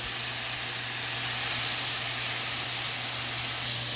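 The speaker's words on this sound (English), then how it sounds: "I have some Progresso beef broth here, and I'm just going to add some of that in" Progresso beef broth poured into a crock pot, a steady, fairly loud broadband hiss with a low hum underneath, continuous for several seconds with no talking.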